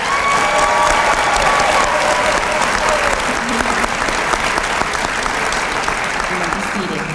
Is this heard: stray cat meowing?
no